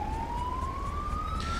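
A wailing ambulance siren from the video game GTA 5 sweeps in a steady rising tone over low traffic rumble, heard alone with no talk.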